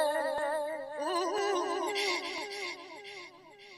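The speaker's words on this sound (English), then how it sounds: "Next thing is you need some dreamy vocal stabs in there." Dreamy resampled vocal stabs drenched in long delay and reverb for a 90s GLR-style intelligent jungle track, wavering sustained tones that swell and smear into echoing tails, moderately loud and alone.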